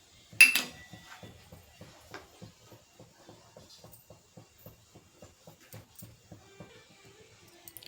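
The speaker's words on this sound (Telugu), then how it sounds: "ఇప్పుడు నేను ఇందులో పల్లీలు వేసేస్తున్నాను" Peanuts hit hot oil in a pan with one sharp clattering splash, then a string of small, evenly spaced pops and crackles that keep going, close and quiet, with no speech, while a cucumber-tomato chutney is being made.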